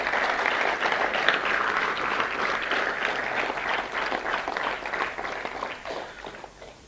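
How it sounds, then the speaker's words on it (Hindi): An audience at an event celebrating the 1971 victory bursts into loud, dense applause that carries on steadily for several seconds before tapering off. "जोरदार ताली के साथ."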